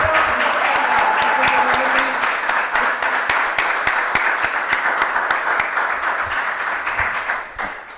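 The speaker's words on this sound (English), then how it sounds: "A big applause Caterina for the all the day." Audience claps in a sustained, fairly loud burst of applause at an eco-week gathering, with faint voices underneath, gradually tapering off toward the end.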